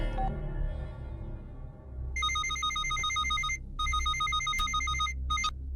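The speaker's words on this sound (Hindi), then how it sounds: "घंटी बज रही है, कोई फोन नहीं उठा रहा है।" A telephone bell rings in repeated bright trilling bursts with short gaps between them, loud and close, after a brief stretch of background noise.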